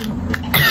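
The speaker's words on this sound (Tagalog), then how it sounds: "grabe talaga ang ubo ng tao na to" A single short, sharp cough from a person, close and fairly loud, with a throaty catch just before it.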